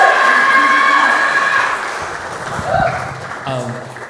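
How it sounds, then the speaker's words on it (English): Audience applause and cheering at a reading event, clapping that fades from fairly loud to softer, with voices and a few shouts rising through it near the end. "let's give some applause."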